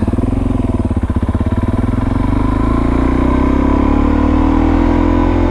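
A Suzuki DR-Z dirt bike engine on an evening ride in the Arizona heat, loud and close, beginning with rapid rhythmic firing pulses and then building into a rising, smoother drone as it accelerates.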